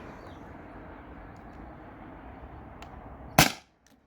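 One sharp, loud crack from an air pistol, a modified T4E TR50 or Beeman BP50, fired over a chronograph outdoors, cutting through steady background hiss and ending abruptly.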